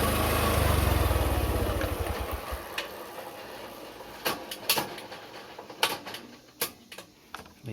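A motorcycle engine idles while being used to charge a car battery, a loud steady low rumble that fades out as the bike is switched off, followed by a few sharp clicks and clacks.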